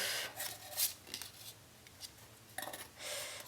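Scissors snip a small handmade craft figure in a quiet workshop, several close crisp cuts in uneven bursts with short pauses between them.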